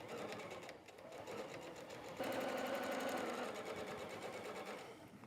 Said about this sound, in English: as I'm stitching that I'm stitching 1/4 inch from that solid line